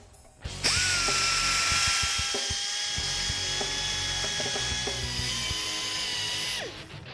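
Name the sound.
grinder with stone chamfering oil return holes in engine valley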